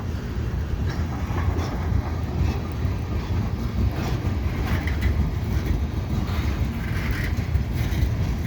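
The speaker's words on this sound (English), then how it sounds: "So this train came at the right time" A CN freight train rolls steadily past on a bridge approach on a wintry day with rain or sleet, a continuous loud rumble with rhythmic clickety-clack of wheels over rail joints throughout.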